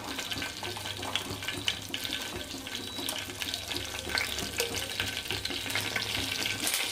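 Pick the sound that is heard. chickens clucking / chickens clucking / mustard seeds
mustard seeds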